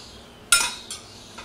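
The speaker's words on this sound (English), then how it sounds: "Grab a spoon and put about 1 tablespoon of mixture on top of falafel." A spoon scoops an onion and mushroom mixture onto a falafel muffin, giving one clear clink and scrape followed by a softer second tap, close and quiet with no talk.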